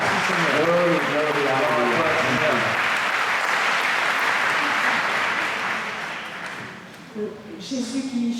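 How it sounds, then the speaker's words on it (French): Congregation applauding during a French Catholic prayer gathering in Bergerac, sustained dense clapping under singing or chanting voices at the start, then thinning out as a lone voice speaks near the end. "Applaudissons notre Seigneur."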